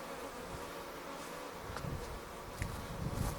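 Honeybees buzzing softly around an open hive during an inspection, a faint continuous drone with a few closer passes and light handling sounds.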